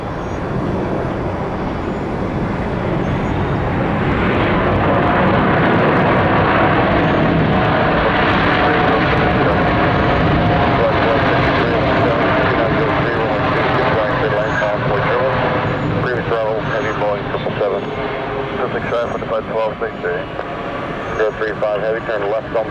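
Airliner departing at Atlanta International Airport, a loud broad engine roar that swells and holds steady for many seconds, heard from a distance, with radio voices in the background.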